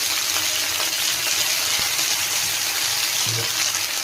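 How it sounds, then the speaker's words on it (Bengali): Onion and chopped Malabar spinach stalks fry in a pan, giving a steady, close hiss of sizzling oil that holds evenly throughout with no talk. "পেঁয়াজটা হালকা ভাজা হবে, তার মধ্যে ঢেলে দেবো পুঁই শাকের বিচুলি"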